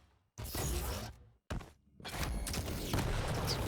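Rocket launcher blasts in the Quake Champions video game, two loud booming bursts with a short gap between them, followed by a longer dense stretch of explosive noise.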